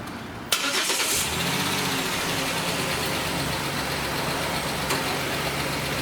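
A 1977 Buick Electra Limited's engine catches with a sudden burst on its first start in a year, then settles into a steady, low idle that runs on without a break.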